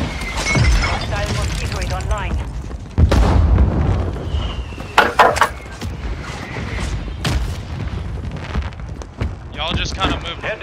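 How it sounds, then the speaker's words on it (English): Mortar strike explosions in Modern Warfare 3 Warzone: heavy booms and shattering impacts land in several separate hits, loud and close, with players talking over them. "Mortar strike on me."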